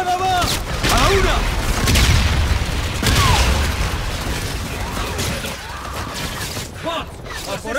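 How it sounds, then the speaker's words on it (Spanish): Grenade blasts and gunfire from a battle against bots in Call of Duty: Infinite Warfare, several loud booms and bursts with mechanical clatter layered over a busy soundtrack. "¡Las granadas serán más efectivas contra los bots! ¡Granada va!"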